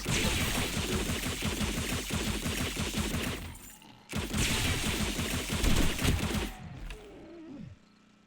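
Rapid, sustained gunfire in the survival zombie game 7 Days to Die, aimed at zombie cops during a Blood Moon horde on day 70. The shots are loud, dense and rhythmic, break off briefly midway, then resume before trailing away.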